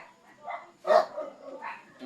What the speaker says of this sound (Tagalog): maingay yung mga yung mga aso dyan sa baba tsaka sa akin.